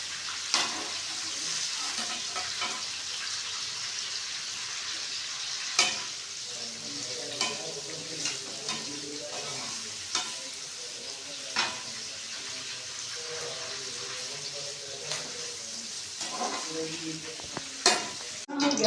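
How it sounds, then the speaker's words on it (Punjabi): Soybean nutri chunks roasting in a kadai, a steady bright sizzle with repeated stirring scrapes and occasional sharper knocks of a utensil against the pan, close and continuous. "ਚੀਜ਼ ਵੀ ਆਪਾਂ ਇਹਨੂੰ ਕੜਾਈ ਰੋਸਟ ਕਰਾਂਗੇ"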